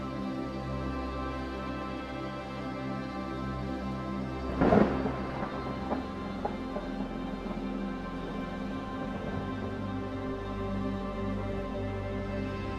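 A single loud thunderclap rumbles near the five-second mark over a steady wash of rain in the Monteverde cloud forest, Costa Rica, which continues evenly before and after it.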